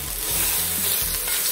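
Tomato paste and bouillon base are stirred in a hot pot for pot roast, with a loud, close sizzle. Regular scraping strokes of a spoon run across the pan bottom.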